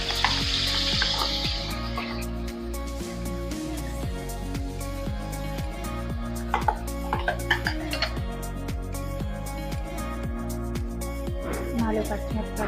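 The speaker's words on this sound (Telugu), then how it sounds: "ఆనియన్, టమాటో పచ్చివాసన పోయేంత వరకు వేయించుకోవాలి." Onion and tomato paste fries in hot oil for a fish curry, a steady close sizzle with frequent stirring clatter and occasional utensil ticks against the pan.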